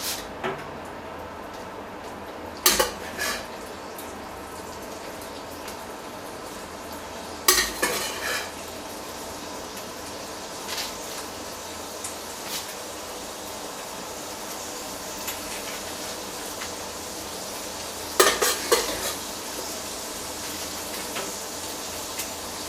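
Chicken hearts fry in melted butter in a cast-iron pan, giving a soft, steady sizzle. Several sharp clinks and scrapes of utensils against the pan cut through at intervals, and no one speaks.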